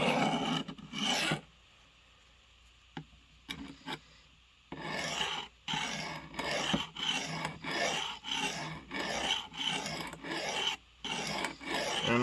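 Steady rasping strokes of a blade being sharpened, a file or stone dragged repeatedly across metal in a regular rhythm of about a dozen close, loud passes after a few seconds of near quiet with light ticks.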